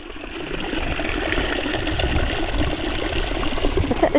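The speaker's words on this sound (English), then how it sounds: "Look at this bubbling brook." Water from a bubbling brook near an old country house runs steadily outdoors, a dense, continuous rushing and burbling that stays fairly loud throughout with no voices over it.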